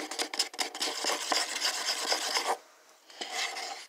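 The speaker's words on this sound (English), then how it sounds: "make sure you scrape the sides and the bottom of your container you're" Rhythmic, close rasping scrapes of a tool against the sides and bottom of a container while mixing paint, a quick run of strokes, a brief pause, then more scraping.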